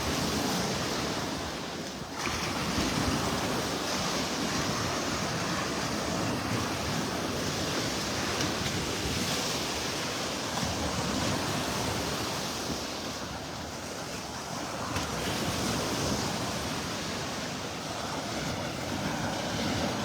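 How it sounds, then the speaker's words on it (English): Ocean waves rolling onto a sandy beach toward Bonita Springs and Fort Myers, a steady close wash of surf with gentle swells, wind buffeting the microphone throughout, no voices. "It's kind of easy walking other than you getting splashed by the waves"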